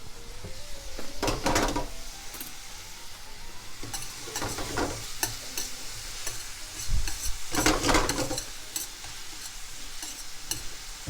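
Lightly salted onions sauté in a pan for an Italian poached-fish dish, giving a continuous close sizzle. Repeated bursts of utensil stirring and scraping rise over it at irregular intervals.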